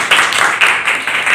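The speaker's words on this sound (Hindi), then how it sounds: "तो जोरदार तालियां" Brief burst of rhythmic group clapping from a school audience in Delhi, loud and near, with a few strong pulses in quick succession.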